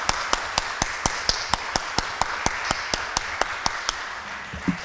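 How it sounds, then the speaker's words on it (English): A lone steady clap rings out in an even, metronome-like rhythm, about sixteen sharp close claps over a few seconds, with a faint roomy hum behind them and no voices. "I think we should give one special applause just for you."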